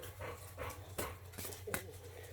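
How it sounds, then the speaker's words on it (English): An overheated dog pants heavily and rhythmically up close, with breathy bursts and faint whimpering running continuously throughout. "he's too warm, he won't get any water and he's panting"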